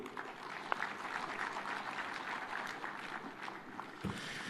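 Steady applause from a large crowd at Kenya's devolution conference, a dense even patter of many hands heard from some distance, fairly quiet overall, with one sharp clap and a dull knock near the end.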